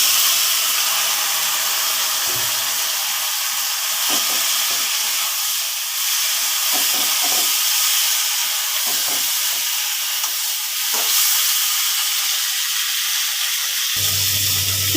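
Cut plantain and potato cook in a pan with a loud, continuous steamy hiss, broken by occasional stirring scrapes and knocks.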